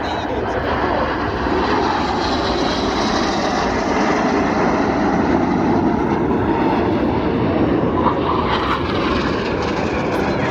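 A Red Arrows jet makes a fast pass at the RIAT airshow, producing a loud, steady roar. The roar holds at full strength for the whole stretch, with no pause and little change.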